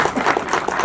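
Audience applause at an ustad-shagird music gathering, a short, dense patter of many hands clapping close by and fairly loud.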